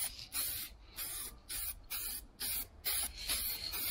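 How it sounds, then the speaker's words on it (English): A rattle can sprays a light dust coat of paint onto a BMW X5 panel in repeated short hissing bursts with brief gaps between them, close and crisp, with no talking. "we'll go with a standard dust coat first, just to sort of get a grab coat on there"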